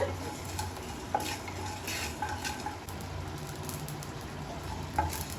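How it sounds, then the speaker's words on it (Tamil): Mustard seeds and fenugreek splutter in hot oil for tomato pickle, a crackling sizzle dotted with sharp pops and the scrape of a stirring spoon, with no speech. "பார்த்தீங்களா கடுகு பொரியுது"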